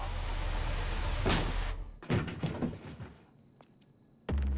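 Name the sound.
door being broken open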